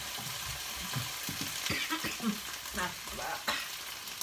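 Minced pork stir-frying for Thai basil pork with oyster sauce, seasoning sauce and sugar: a steady sizzle with spatula scrapes and stirring knocks in a pan, and a brief spoken word.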